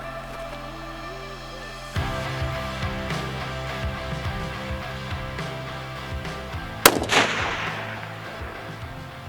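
A rifle fitted with a TRACT TORIC FFP 34mm 4.5-30x56 scope fires at a 1,790-yard long-range target. One sharp, loud crack rings out over steady outdoor background noise, after an earlier thump.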